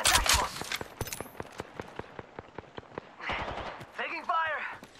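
Rapid gunfire rattles in a shooter video game, a quick run of sharp, evenly spaced shots with short pauses, close and punchy, with game voice lines and effects in between.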